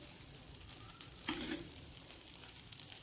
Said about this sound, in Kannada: ಇವಾಗ ಸೈಡಿಗೆ ಒಂದು ಸ್ಪೂನ್ ಎಣ್ಣೆ ಹಾಕಿ.